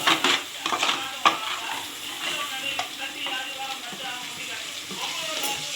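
Red chilli powder fries in a pan for a tangy fish curry, a soft sizzle broken by spoon clatter and stirring scrapes, louder at first, with a voice faintly present.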